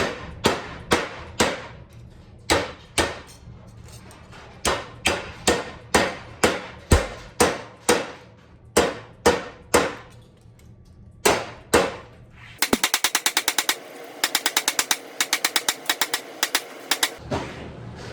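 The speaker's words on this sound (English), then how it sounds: "I use a rubber mallet for that on the back of my vise." Rubber mallet striking sheet metal held on the back of a vise, dozens of sharp evenly spaced blows close by, then a quicker run of brighter, ringing taps near the end, no talking.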